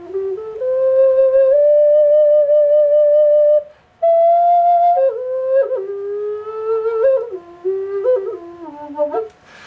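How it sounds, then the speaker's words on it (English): A large, low-pitched handmade bamboo flute plays alone and up close, starting with a long sustained breathy note, then moving through a slow descending melody with bends and pulled-off notes. "It's a really low flute."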